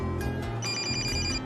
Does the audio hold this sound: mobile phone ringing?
yes